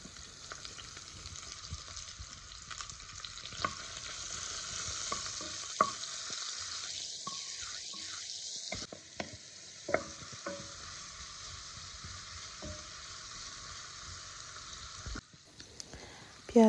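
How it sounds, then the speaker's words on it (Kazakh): Meat and onions fry in oil in a pan, a soft, low sizzle with occasional scraping stirs and clinks, faint and close, with no talking. "Міне осылай қызарып қуырылған кезде үстіне пиязымызды саламыз."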